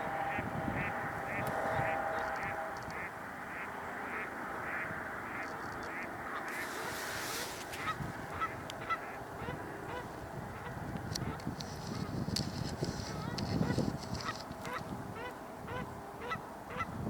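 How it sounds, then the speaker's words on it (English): A Canada goose honks repeatedly at a distance across a wetland, its calls rising over a steady background hum of wind and water. "Hearing a Canada goose right now also."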